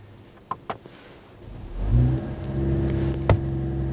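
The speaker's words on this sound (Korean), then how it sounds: "배기 소리가 좀 있나요?" A Mercedes-AMG SUV engine starts up with a couple of short clicks, then the engine catches and the exhaust rises into a loud, deep rev that settles into a steady rumbling idle with a brief blip near the end.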